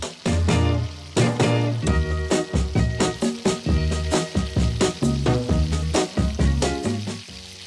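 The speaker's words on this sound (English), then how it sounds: "Then sauté, stirring constantly on medium-low heat until the shallot is almost tender." Diced shallot with salt sizzles in melted butter in a pan over medium-low heat, a continuous close crackle and spatter broken by regular stirring strokes, steady and fairly loud throughout with no talking.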